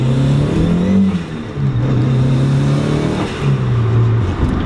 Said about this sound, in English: Under full throttle, you can hear the turbo just sucking in just massive amounts of air just from right there.